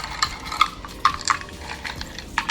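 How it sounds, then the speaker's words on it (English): Ice cubes drop into a glass for an iced oat milk latte, giving several sharp, close clinks and rattles at uneven intervals against a quiet background. "And now we're just going to put ice in here."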